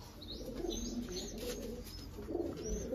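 Pigeons, a blue one and a red one among them, coo steadily in a coop, with soft repeated low calls and faint chirps over background noise and no talk.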